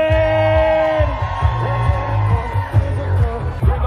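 Wedding guests yell, whoop and cheer loudly for the wedding party's entrance, with bursts of voices rising over a steady backing of music.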